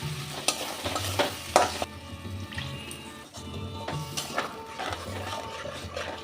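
A ground spice paste of cumin, coriander, chilli and ginger frying in a pan, sizzling steadily while a spatula stirs and scrapes in a repeating rhythm, close and clear, with no talking.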